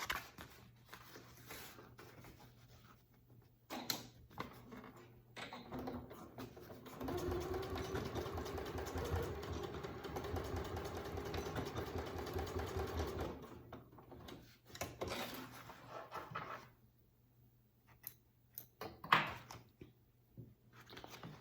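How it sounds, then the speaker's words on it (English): A sewing machine back stitches fabric for a range bag. It runs in short bursts, with one long steady run of close mechanical whirring, then stops and starts with small clicks and handling sounds between the runs. "I'm just going to back stitch over this several times"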